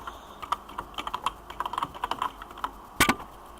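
A password being typed on a computer keyboard, with close, crisp keystrokes in a quick, uneven run and a louder cluster of presses near the end, with no talking.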